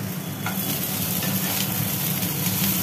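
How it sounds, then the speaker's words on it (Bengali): Chopped spring onion stalks fry in a pan with a steady, close, continuous sizzle and faint crackle, no voices over it. "আর এদিকে ডাঁটা পেঁয়াজ ভাজি ভাজি হচ্ছে।"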